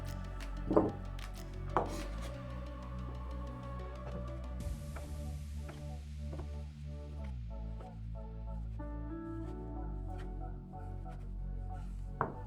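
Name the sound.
knife cutting sausages into cubes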